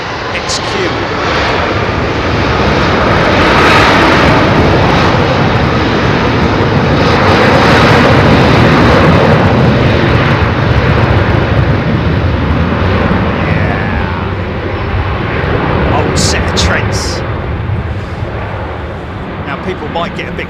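An airliner powered by Rolls-Royce Trent 800 engines departs Heathrow with a loud, sustained jet roar that swells in the middle and eases toward the end, while a person talks over it.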